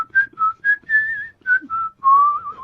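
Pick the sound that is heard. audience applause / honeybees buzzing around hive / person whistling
person whistling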